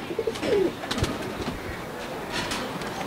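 Soft cooing from high-flyer pigeons close by, a low burbling call early on, with faint background noise throughout.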